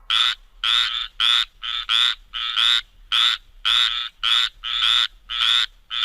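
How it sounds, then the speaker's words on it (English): A frog croaks loudly and close up in a steady series of about a dozen evenly spaced, buzzy calls, each lasting roughly a third of a second, with no voices. "F for frog."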